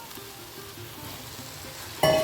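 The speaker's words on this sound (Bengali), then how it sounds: "আলুটা দিয়েও আমি এর সাথে কষিয়ে নেবো" Potato pieces fry with spice paste in oil for a Bengali-style tilapia curry, giving a faint, even sizzle that ends in a short, louder clink of a utensil against the pan.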